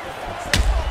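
A flush punch landing in UFC 4, a single sharp slapping thump followed by a low rumble, heard beneath ongoing commentary.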